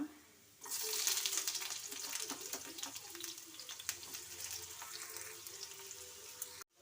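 Onion is dropped into hot oil in a pan for a radish masala gravy, setting off a sudden loud sizzle that keeps crackling steadily, with a few spoon scrapes, before cutting off abruptly.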